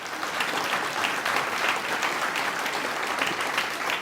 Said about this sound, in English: Can you give another round of applause for that?